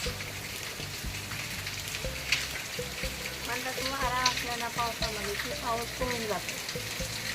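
Steady rain pours on a Maharashtra street during an orange-alert monsoon day with wind, a broad continuous hiss running throughout while voices talk over it.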